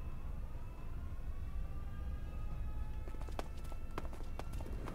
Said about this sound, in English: Huh? Footsteps.